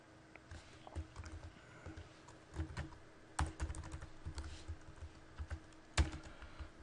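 Code typed on a computer keyboard: quiet, irregular key clicks in short bursts and isolated taps, with a few sharper strokes, close and alone without talk.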